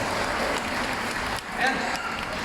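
Spectators at an aquarium show in Chicago clap in a steady wash of applause, mixed with crowd noise and voices talking.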